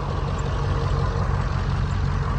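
Two old diesel pickups, a 5.9L 12-valve and an OBS 7.3L, idling together with no emissions equipment, a dense, steady low rumble up close and without any voices.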